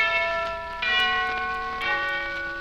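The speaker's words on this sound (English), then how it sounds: "Hear those bells, hear them chime, ring it out, syncopated time." Wedding bells chime in a bright, sustained ringing tone with rhythmic strikes renewing the sound about once a second, full and resonant with no voices.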